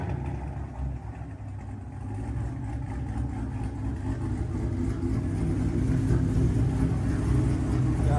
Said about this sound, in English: So I'm finna go ahead and start this thing up just to let it idle a little bit